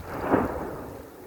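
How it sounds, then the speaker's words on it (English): A volcanic vent gives a single deep, booming bang as rain falls onto fresh lava, followed by a rumbling tail that fades over about a second, with a faint rain-like hiss beneath. "since the rain started, it makes these loud bangs"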